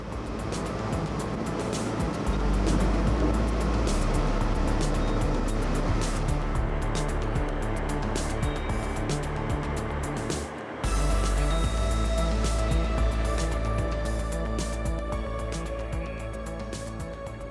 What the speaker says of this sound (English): Yeah, this is second engine there.